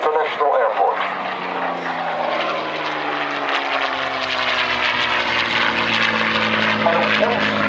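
A P-51D Mustang propeller fighter roars past during an air show flying display, its engine a loud, sustained drone with a whistling tone and falling pitch as it passes, with a commentator's voice underneath.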